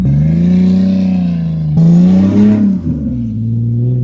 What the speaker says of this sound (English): This thing here sounds like a Peterbilt